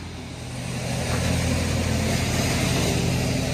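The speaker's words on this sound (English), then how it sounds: "So that is the wrong muffler." A car engine runs through the wrong muffler, giving a loud close throbbing exhaust drone that swells after the first second and then holds steady.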